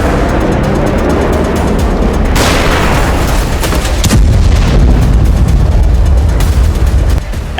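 Continuous heavy rumbling blast noise from a Russian FOAB thermobaric bomb explosion, loud and sustained with deep low-end roar and several sharper surges, no voices.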